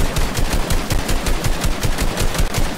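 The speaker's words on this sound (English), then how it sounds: "There's people up here fighting. I can hear the bullets." Rapid automatic gunfire from a shooting video game, steady bursts of close, loud shots repeating throughout with no talking.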